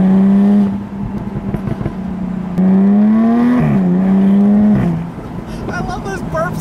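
A 2016 Jaguar F-Type V6 convertible with active exhaust pulls hard, its engine note climbing through gears with sharp shifts between pulls, loud and close, while a voice talks over it.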